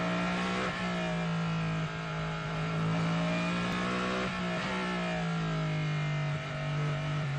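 Cadillac and rival hypercars racing in the WEC at Circuit of the Americas, a loud sustained engine drone with shifting pitch as cars pass through a corner sequence, continuous and close.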